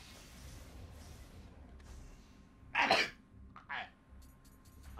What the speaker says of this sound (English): Stop fucking sneezing